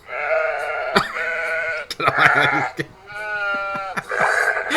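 Cartoon sheep bleat loudly in a string of wavering, nasal cries, some clipped and some drawn out, with brief gaps between calls and no talk over them.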